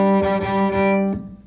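Fiddle plays a brief tune section on open strings, a sustained bowed drone with a stomped foot beat, ending abruptly after about a second and a half.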